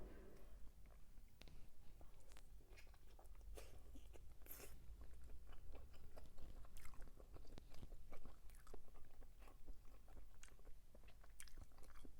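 Close, crunchy chewing and biting while eating Thai som tam papaya salad, a steady stream of moist crunches and mouth sounds, quiet and near.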